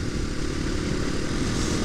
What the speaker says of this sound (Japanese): バイク乗り来たぞ